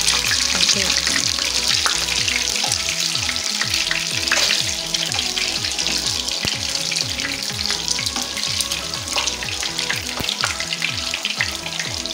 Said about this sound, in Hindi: दूसरे चूल्हे पर हम एक पैन में थोड़ा सा घी गरम करेंगे और इसमें अंडों को हल्का सा फ्राई कर लेंगे।